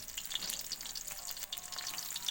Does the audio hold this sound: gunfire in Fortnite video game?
no